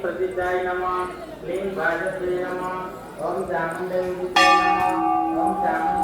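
Temple bells at Maa Ghanteswari Temple, Chipilima, Sambalpur clang repeatedly in an uneven, overlapping rhythm, bright ringing metal tones striking again and again, with a sharper louder strike near the end.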